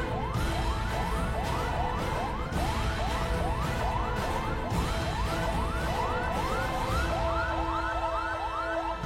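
An ambulance siren wails in a rapid repeating up-sweep pattern through traffic, steady and fairly loud against a heavy rumble of road and engine noise, cutting off near the end.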